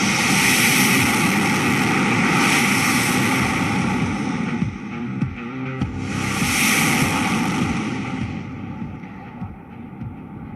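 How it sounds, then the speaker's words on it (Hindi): An Indian Air Force Jaguar jet does a touch-and-go at the Purvanchal Expressway airstrip in Uttar Pradesh. Its loud, continuous engine roar rises, dips, then swells again as it passes, with no voices over it. "You can see a Jaguar aircraft making an touch and go."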